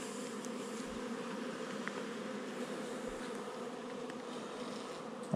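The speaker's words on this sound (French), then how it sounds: "m'ont l'air en pleine forme, ces petites abeilles" Honey bees buzzing around a small spring nucleus hive during an inspection, a soft, continuous close droning hum with no talking.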